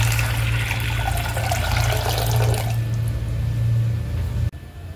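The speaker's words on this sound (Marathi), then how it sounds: "आणि पाणी टाकून घ्यायचं." Water poured into a pressure cooker set to heat on a lit gas stove, for cooking dal for puran poli; a steady, close pouring rush lasts about four and a half seconds, then stops abruptly.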